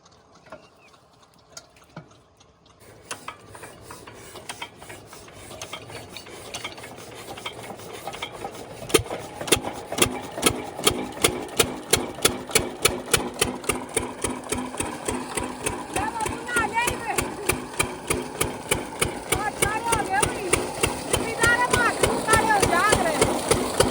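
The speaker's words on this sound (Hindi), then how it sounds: "आप इंजन स्टार्ट है।" An engine, started again after a year of sitting idle, cranks from near-silence, catches, and settles into a loud, rhythmic chugging beat that grows steadier and fuller, with no talk over it.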